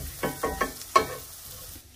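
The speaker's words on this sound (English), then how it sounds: "I don't want to burn the garlic, so it's not going to take a long time to saute." Garlic sautés in a pan for a creamy chicken dinner, with a soft background sizzle broken by four or five quick scraping stirs, then fading toward quiet at the end.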